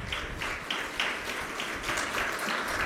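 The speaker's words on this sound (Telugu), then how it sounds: "చప్పట్లు కొట్టి దేవుని స్తుతిద్దామా?" A church congregation claps together in praise of God during a sermon, a steady, fairly loud rhythmic clapping that keeps an even beat throughout with no voices standing out.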